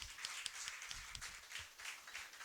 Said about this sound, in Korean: 우리 믿음의 선배들 위해 다시 한번 박수해 주시기 바랍니다